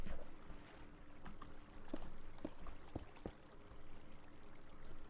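Flowing water in the Minecraft video game, a soft, continuous trickling wash with faint splashy pops scattered throughout, quiet and alone with no voices.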